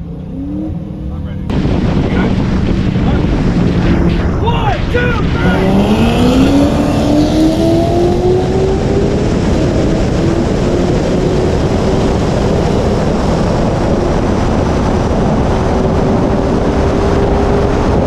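A 700hp Corvette ZR1 and a 900hp Hellcat Red Eye launch in a race, engines roaring loud and close, then rising through the gears as they pull away into a sustained high-revving drone.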